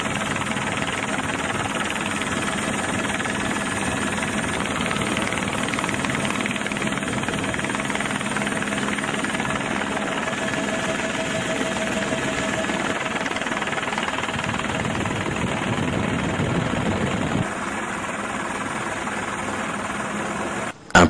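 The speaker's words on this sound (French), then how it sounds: "pour le rattraper, il faut un hélico" A helicopter flies over the Luapula River near Kashobwe village while filming a speeding yacht, its engine and rotor giving a loud, continuous droning whir that holds steady for about twenty seconds with no talk.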